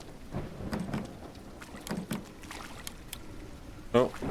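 Rain falls steadily on a flooded town street, a soft hiss broken by scattered drips and clatters, with faint voices and a sharper knock near the end.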